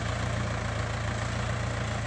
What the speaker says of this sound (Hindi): बहुत बेहतरीन काम कर रहा है ट्रैक्टर